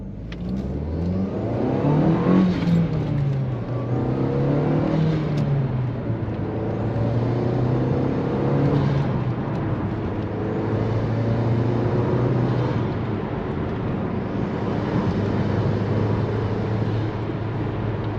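A turbocharged Audi TT running with its air filter removed, the engine revving and pulling hard through the gears, steady and close with no talking.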